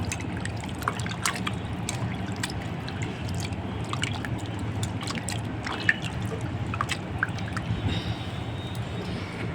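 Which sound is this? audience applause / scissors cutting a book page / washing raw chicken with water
washing raw chicken with water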